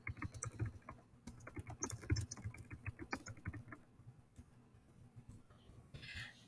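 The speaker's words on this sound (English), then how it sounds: "you will type in the question that you want" Someone types on a computer keyboard in a quiet room, producing a soft, irregular patter of key clicks that thins out toward the end.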